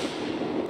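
A grenade in Escape From Tarkov bursts as one short, muffled, distant pop with a little rumble and no talk over it.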